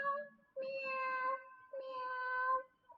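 A person's voice imitates a cat's meow twice, in drawn-out, slightly nasal calls with a short pause between them.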